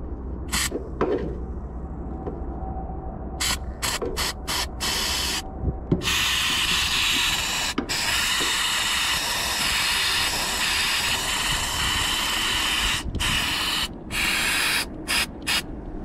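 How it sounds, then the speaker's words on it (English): Flex Seal being sprayed from an aerosol can onto a leaking roof, loud close hissing bursts, first short and broken, then a long sustained spray, ending in a few brief puffs. "And we can just spray it on the area."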